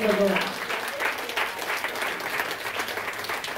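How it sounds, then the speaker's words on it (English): A church congregation claps its hands in praise during a revival service: thick, continuous applause from many people, loud and close, with voices mingling in under the clapping. "clap them hands and praise the Lord"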